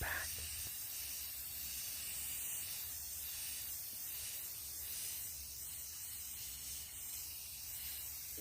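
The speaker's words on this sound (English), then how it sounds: "We're gonna start by giving them a base coat of this charcoal, and for my spray paint lovers, I got your back." Aerosol spray paint hissing steadily as a charcoal base coat goes onto a Christmas craft frame, a continuous close, moderately loud spray with slight pulses and no talking.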